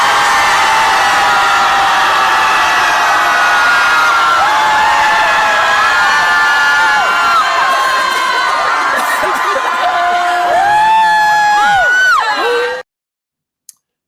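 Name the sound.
crowd of people screaming together, Austin Scream Club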